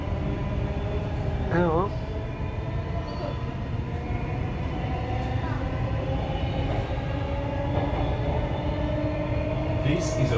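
A Redcliffe Peninsula line train runs express between Bowen Hills and Northgate with a loud, steady rumbling roar throughout, while a brief squealing tone rises early on and a voice speaks briefly.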